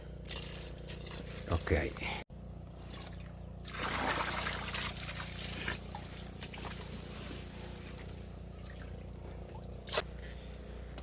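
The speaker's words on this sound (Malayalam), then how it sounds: "ഇനി ആ ഹോർമോണും കൂടെ ഒഴിച്ചാൽ" Liquid plant hormone trickles and splashes steadily onto cardamom plants on an Idukki plantation, with people talking nearby and a low mechanical hum underneath.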